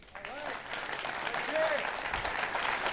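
An audience claps for a speaker who has just finished a remote presentation at a live-streamed event, a sustained, fairly even roll of hands with a few brief voices mixed in.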